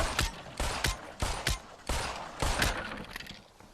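Rapid bursts of pistol gunfire in the VR shooter Population One, about nine loud, closely spaced shots in an uneven rhythm with a short echoing tail after each one.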